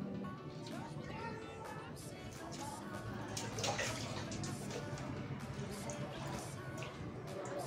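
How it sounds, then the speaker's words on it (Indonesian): Water is poured over a newly potted aroid plant to soak the soil, giving soft splashing and trickling under a person talking throughout. "Kemudian kita siram, yang kenyang supaya bisa meresap sampai ke dalam."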